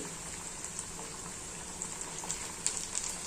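A thick poha snack fries in hot oil over medium heat, a steady close bubbling sizzle with scattered small pops and no talking.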